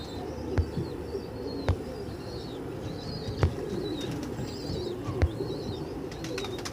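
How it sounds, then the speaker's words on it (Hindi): Ferozpuri and Rampuri pigeons at an outdoor bird market, with soft low coos and occasional wing flaps over a steady crowd murmur, plus faint chirps from other birds. "फिरोजपुरी, रामपुरी कबूतर"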